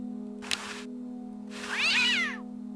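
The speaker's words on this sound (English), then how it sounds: "What a pretty pussycat." A cat in Day of the Tentacle Remastered gives two meows, a short one and then a longer, rising-and-falling one, over a steady low background hum.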